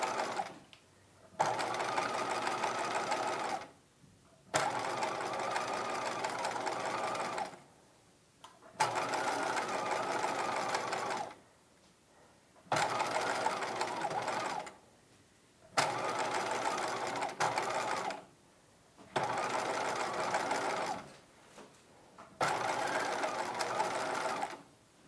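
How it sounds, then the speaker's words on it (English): A sewing machine stitches the hem of a dress skirt in steady whirring runs of several seconds each, stopping and restarting repeatedly with short quiet gaps between bursts. "And I'm stitching slightly to the left of that row of stitching."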